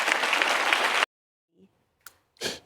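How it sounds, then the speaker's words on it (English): Audience applause at an event in Oklahoma: a steady, dense clapping crowd lasting about a second that cuts off abruptly, followed by a few faint scattered sounds. "They clapped in Oklahoma."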